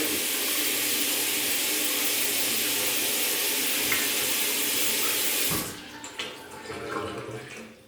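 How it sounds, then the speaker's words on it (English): Water runs from a vanity tap into a sink and down a drain clogged with building material, a loud steady rush that stops abruptly, leaving dripping and trickling sounds. "I might have to run some water through the vanity that's next to it"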